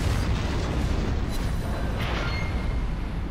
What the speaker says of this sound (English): And he's returning fire.